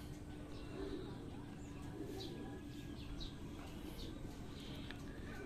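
Racing pigeons returning to the loft after a 57 km training release in Zaragoza, Nueva Ecija give faint, scattered coos and short chirps over a steady low outdoor rumble.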